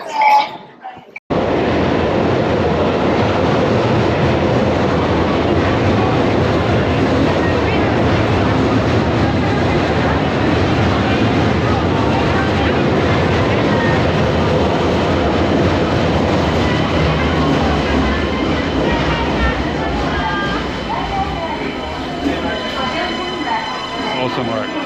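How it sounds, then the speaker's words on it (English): Gateway Skyliner train running on rails in Japan, a steady loud rumble and rattle heard from inside the carriage for over twenty seconds, with faint voices of passengers beneath it. "This train is the Gateway Skyliner."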